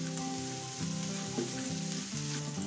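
Garlic sautéing in a hot pan for a Filipino kare-kare (pata) dish, a steady close sizzle with soft stirring scrapes, no voices.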